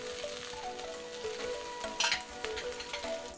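Onion, ginger, garlic, green chili and capsicum frying in a pan, with a steady close sizzle and a brief louder burst of crackling midway through.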